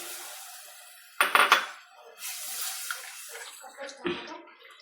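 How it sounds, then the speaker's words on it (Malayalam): Tamarind water is poured and splashes into a fish curry pot in a few bursts, with soft clinks of a utensil against metal between pours. "തോടംപുളി കഴുകി വെള്ളത്തിലിട്ട് ആ വെള്ളവും പുളിയും കൂടെ നമുക്കങ്ങ് ഒഴിക്കാം"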